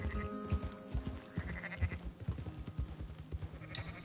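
A herd of sheep in Red Dead Redemption 2 bleats repeatedly in overlapping calls, moderately close, with a background of hoof-like thuds and movement.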